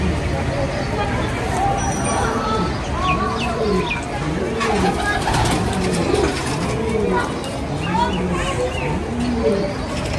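Golden Kamagar pigeons, a male and a female, coo steadily in a run of soft rising-and-falling calls over a constant murmur of background noise.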